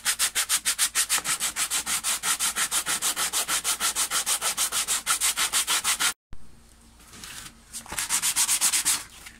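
120-grit sandpaper rubs back and forth over plastic, heard up close as a fast, even run of rasping strokes. A brief pause follows, then a quieter scrape and a second short burst of strokes.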